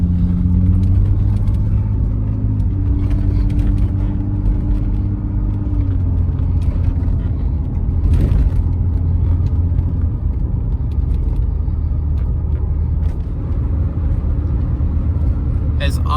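A 1987 Pontiac Fiero GT driving on the road, its steady engine and road rumble running continuously up close, with a low drone and some whirring throughout.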